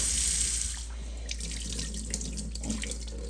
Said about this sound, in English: continue this process for like 3-4 times until all the water starts running clear